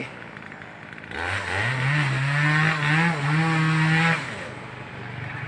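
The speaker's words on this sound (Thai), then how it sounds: "เลื่อยเครื่อง เลื่อยเครื่องเครื่องเล็กนะครับ" A small chainsaw buzzes up from idle into a steady high-revving whine for a few seconds while cutting timber for posts, then drops back to a low idle; nearby and fairly loud.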